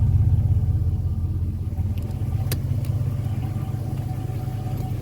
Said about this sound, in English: V8 grumbling, even from the exhaust